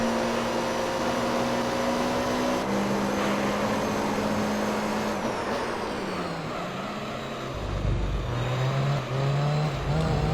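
Racing car engines from Gran Turismo 3: A-Spec, in a Professional All Japan GT race that includes a Supra, drone steadily and loud throughout, with shifting harmonic engine tones rising and falling as the cars run. No talking.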